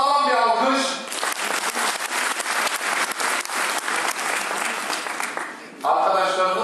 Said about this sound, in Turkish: Sağlam bir alkış.